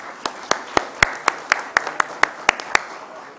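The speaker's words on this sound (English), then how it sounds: "I'd please ask you to join me in giving them a loud round of applause for all their help." Slow, evenly spaced claps from an office event audience thanking Indian Roads Congress staff, a dozen distinct hand claps sounding close and fairly loud with no voices.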